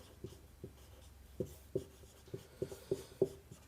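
A pen writes an answer on paper in several short, firm strokes with small taps between them. The strokes bunch closer together toward the end and sound near and fairly quiet, with no voice over them.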